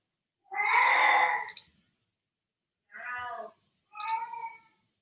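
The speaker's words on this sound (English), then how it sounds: "my cat's freaking out again" A house cat lets out a long, loud yowling meow, then after a pause two shorter meows in a row, close by with no talk over them.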